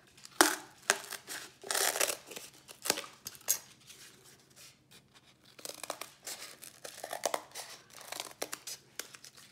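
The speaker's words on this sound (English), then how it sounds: "And now I'm gonna cut it." Scissors cutting household cardboard for a 3D sculpture project, giving a series of close crunching, tearing snips in uneven bursts with short pauses between cuts.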